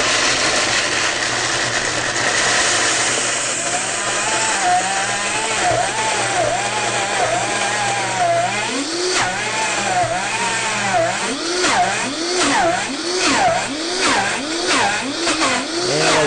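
A Vitamix blender runs at full speed, grinding almonds into almond butter with no added oil. The motor gives a loud, close whine whose pitch keeps dipping and recovering in repeated wobbles as the thick mixture churns, with no talk.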